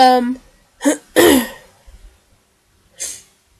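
A few short, harsh coughs close to the microphone, separated by brief pauses, with a speaking voice at the start.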